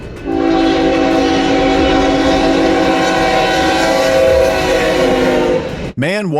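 A train passes close by with a loud, continuous rumble of wagons and a long, steady horn blast held for several seconds, then cut off abruptly.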